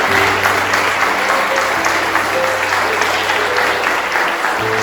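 A church congregation at a Sunday celebration service applauds, a dense, steady wash of many hands clapping that fills the hall loudly and evenly throughout, with a low sustained hum beneath.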